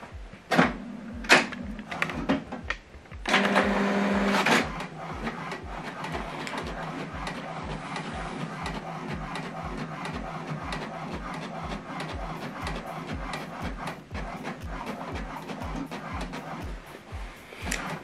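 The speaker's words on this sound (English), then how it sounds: "what it's telling us, the first set of document is printing" A printer works through a document sent from a laptop, with steady mechanical whirring and rhythmic feed clicks throughout, plus a few louder clunks near the start.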